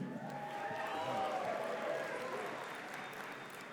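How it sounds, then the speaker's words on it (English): A crowded audience applauding at the Colorado School of Mines 2019 midyear undergraduate commencement, a dense, sustained wash of clapping that tapers slightly toward the end. "How about another round of applause for the Natural Miners?"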